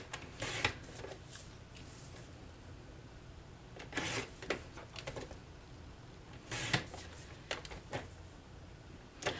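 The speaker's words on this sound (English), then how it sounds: "And then I'm just going to cut in 1-inch strips." Paper is sliced into 1-inch strips for note cards with a paper trimmer, a few quick crisp swishing cuts in separate bursts, close but quiet, no speech.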